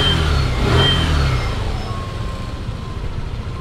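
Repaired car engine running just after being started, a loud close rumbling idle that swells briefly and then settles into a steady drone.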